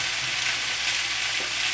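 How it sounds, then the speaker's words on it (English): Teriyaki beef sizzles in hot oil with a steady, close, crackling hiss throughout, broken only by a faint clink near the end. "That sizzle."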